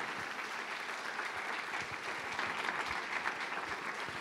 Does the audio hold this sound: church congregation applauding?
yes